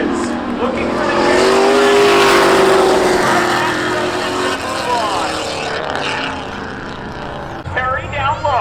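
Race cars at the Seekonk Speedway spectator drags roar loudly past, engines sweeping up and fading while tires squeal. A commentator talks excitedly over the noise throughout.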